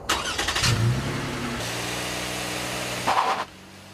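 A 2015 Toyota Sienna minivan accelerates on a cold test track, its engine drone rising in pitch, dropping as it shifts gear, then climbing again before a short burst of louder noise near the end.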